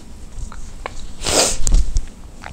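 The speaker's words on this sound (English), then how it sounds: "I'm going to sneeze again." A single loud sneeze bursts out close to the listener, with small sniffs and rustling on either side of it.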